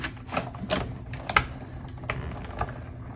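A 3D embossing folder with the gray plate cranked through a manual die-cut machine, a steady run of close, clicky mechanical ticks and gear rattles with a few sharper snaps, no talking.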